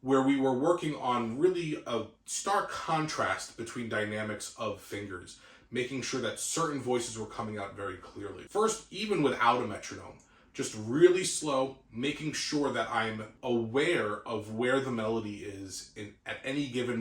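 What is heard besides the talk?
None of the usual background noises is heard.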